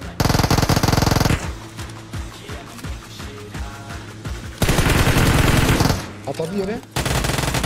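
Bursts of automatic machine gun fire in PUBG, loud and close, with sustained rapid volleys at the start and again later, rattling over a busy in-game background while a player briefly speaks.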